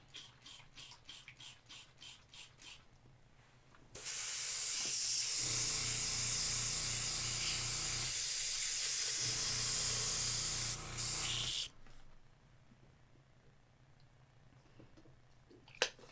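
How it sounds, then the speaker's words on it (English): An airbrush is cleaned out, giving a loud continuous spray hiss lasting about eight seconds with a short dip midway, framed by quieter rhythmic tapping before and after. "Done with the airbrush, so let me clean that out."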